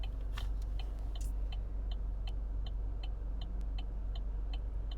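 A car's low engine rumble runs steadily beneath the crisp, evenly spaced ticking of the turn signal, heard from inside the cabin as a passenger rides along.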